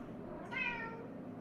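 A single cat meow rises briefly over a steady low background hum, fairly faint and heard alone with no talking.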